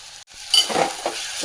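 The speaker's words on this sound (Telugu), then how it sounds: "ఉల్లిపాయలు వేగిపోయాయి కదా, ఇప్పుడు ఇందులో ఒక టమాటో వేసుకుంటున్నాను." A spoon briefly stirs one chopped tomato into fried onions in a hot pan, a short close scrape and clatter over a light sizzle, lasting barely a second.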